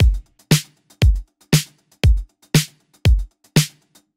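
Acoustic hi-hat loop played together with a drum kit: a steady groove of eight punchy drum hits roughly every half second, each with a bright hi-hat sizzle on top, loud and close with no voices.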